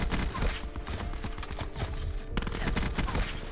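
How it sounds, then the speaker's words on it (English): Rapid-fire SMG bursts in Black Ops 4, the new Daemon 3XB, in continuous fast rattling strings of close, loud shots with a brief break before the firing resumes. "This gun with rapid fire is nice."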